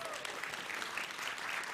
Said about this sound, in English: Please give Christian a big round of applause.